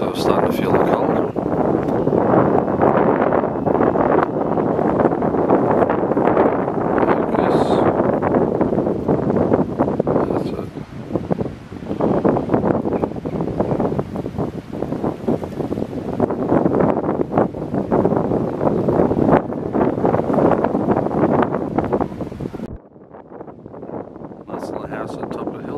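Wind roars against the microphone on a countryside walk between Chalfont & Latimer and Chorleywood, loud, buffeting rumble that stays almost constant before dropping away near the end.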